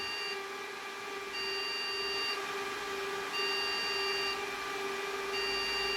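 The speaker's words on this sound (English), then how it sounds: "Still getting the bleeping." An old Intel server emits a steady electronic error beep at regular intervals, roughly once a second, over a constant low machine hum.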